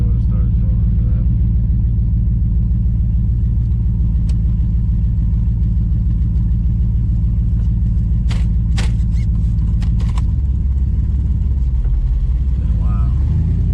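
A car fitted with a Holley Sniper EFI and an in-tank fuel pump accelerates on a test drive, its engine a loud, continuous low rumble heard from inside, with scattered clicks and a deeper surge near the end.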